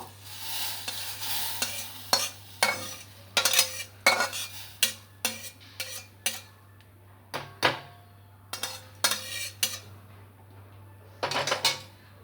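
A spoon scrapes and clinks against a metal pot of milk and fried vermicelli in a series of short, irregular strokes, with a low steady hum underneath and no talking.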